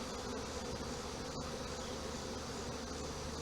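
Honey bees drone around an open hive during a pre-winter inspection, a dense, continuous buzzing heard close up with no talking.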